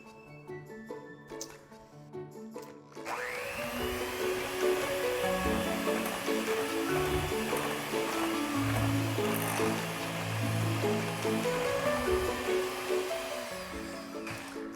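Gingerbread cookie dough is mixed steadily in a bowl, giving a continuous crumbly scraping and squishing texture that runs loud and unbroken after a brief quieter start, with faint music playing underneath.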